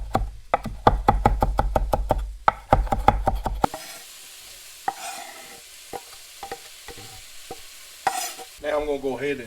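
Ground beef and Italian sausage browning in a pot over medium-high heat, with a run of rapid stirring scrapes and knocks up front, then a steady low sizzle broken by occasional utensil taps.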